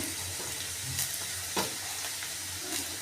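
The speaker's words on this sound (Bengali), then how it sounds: "গাজর দিয়ে কষিয়ে নেব।" Carrots and potatoes sauté in a pan for an egg and vegetable dal, giving a continuous close sizzle with soft stirring scrapes. No one speaks.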